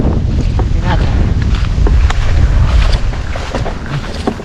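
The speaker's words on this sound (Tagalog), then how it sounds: "Lumalakas po yung alon." Strong wind buffets the microphone with a steady roar while waves slosh and splash nearby, continuous and loud throughout.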